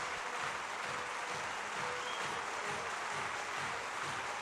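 A crowd applauds a 20-year-old Egyptian player's semifinal win at the 2008 World Squash Championships, a dense, even wash of clapping that carries on steadily throughout.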